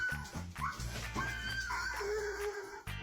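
Dogs at a dog park whimper, whine and yip in short high cries over a low background murmur, fairly close and brief.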